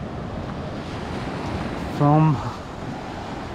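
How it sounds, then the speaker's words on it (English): Surf and sea wash at the Maroochydore River mouth where the river runs into the sea, a steady broad roar with wind buffeting the microphone throughout; someone briefly speaks over it partway through. "that there is the mouth of the Maroochydore River running into the sea"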